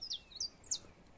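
Wild field birds, canaries among them, give three quick high chirps in succession, faint and somewhat distant over a soft outdoor background, with no voices.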